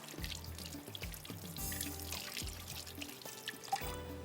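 A kitchen tap runs while hands are washed at a sink, a faint trickle and splash with soft knocks and clinks nearby, no talk.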